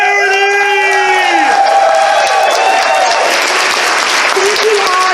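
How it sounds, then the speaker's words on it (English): Loud applause and cheering from a comedy show audience for a charity, with whoops and shouts over continuous clapping and overlapping voices. "Let's have a round of applause for the charity."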